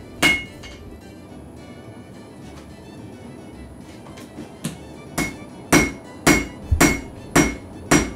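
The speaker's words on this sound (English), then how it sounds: "You just heat and beat over the horn, drawing out that taper until it's about 15 or 16 inches long overall." Hammer blows ring on metal as a wand taper is forged over an anvil horn, first sparse and lighter, then a run of loud, evenly spaced strikes near the end.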